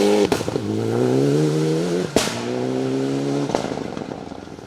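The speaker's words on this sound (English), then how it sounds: "Familiar popping and banging" A Mitsubishi Evolution 9 rally car on a gravel forest stage, its engine revving with loud sharp pops and bangs at gear changes, three distinct cracks between rising droning pulls, close and alone.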